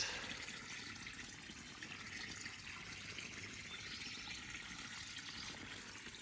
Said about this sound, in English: and water is going inside